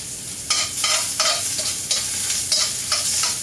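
Garlic sautéing in a frying pan, a steady close sizzle broken by several scraping stirs of a utensil at roughly half-second to one-second intervals, with no talking.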